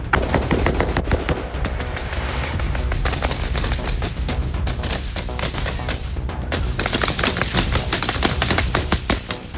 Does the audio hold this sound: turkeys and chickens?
no